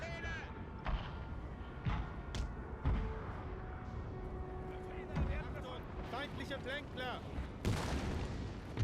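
Scattered musket volleys and cannon booms from a Napoleon Total War battle, irregular thumps and cracks spread across the clip, with someone talking over them throughout.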